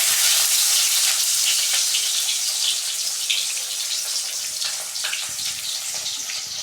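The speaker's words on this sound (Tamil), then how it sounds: "இப்போ கட் பண்ணி வச்சிருந்த வெங்காயம் போட்டுக்கலாம்." Chopped onions hiss and sizzle in hot oil for a fish curry, a steady, loud, close frying noise with no talk over it.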